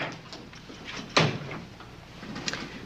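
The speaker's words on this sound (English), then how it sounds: "Close the door." A door swings shut indoors with one dull thud midway, fairly faint against quiet room noise, with no one speaking.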